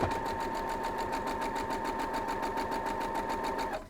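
A sewing machine stitches a quilt block in a steady, fast mechanical whir with a rapid needle rhythm, running continuously at moderate volume before stopping abruptly at the end.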